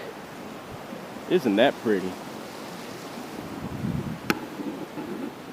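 A creek flows in a steady broadband wash along a hiking greenway, heard as a continuous murmur beneath a brief spoken remark and light footsteps.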